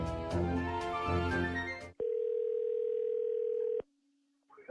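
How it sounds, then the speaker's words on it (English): A steady telephone dial tone sounds while a phone call is being placed, a clean, sustained hum lasting nearly two seconds. It follows a burst of music and stops abruptly before a brief faint sound. "So after his big interview with Rogan, we decided to give him a phone call and try to set up our own little interview"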